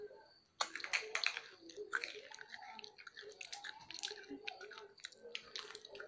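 A crunchy snack is chewed close to the mic, with a run of crisp, irregular bites and crunches that are soft overall and have no voice over them.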